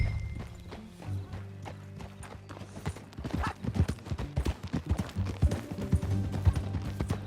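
Horse hooves clip-clop in Red Dead Redemption 2, a steady walking rhythm of soft thuds that grows denser and louder partway through, with faint game ambience underneath.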